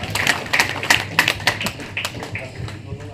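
A scattering of hand claps from an audience at an RCM meeting, spaced irregularly and moderately close, with a voice murmuring underneath; the clapping is sparse rather than a full ovation.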